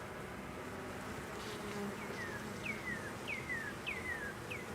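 A dense, steady buzz of honeybees at an open hive during requeening with a Saskatraz queen, continuous and close, with a few faint bird chirps over it.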